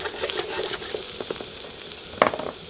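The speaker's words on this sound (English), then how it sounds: "Go ahead and drop our garlic in." Garlic dropped into about a tablespoon of peanut oil in a wok over high heat, sizzling and crackling steadily up close, with a few sharper pops and a brief louder spatter near the end.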